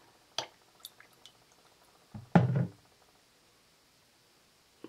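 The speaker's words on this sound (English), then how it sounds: "swirl my brush in the dirty water. Squeeze it and swirl it again in the clean water." A makeup brush swirled and squeezed in a cup of dirty water makes a few soft, close drips and splashes, then a brief wetter squelch in an otherwise quiet room.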